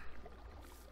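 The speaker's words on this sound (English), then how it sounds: "I hear water running." Water runs faintly in Minecraft, a soft, steady, airy trickle heard alone for a brief moment.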